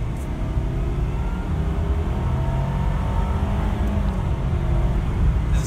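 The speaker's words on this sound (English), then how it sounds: "I'm putting my foot to the floor, and you can see it build." A turbocharged car pulls hard at full throttle in second gear, boost building, a loud continuous low engine roar and rumble heard from inside the cabin.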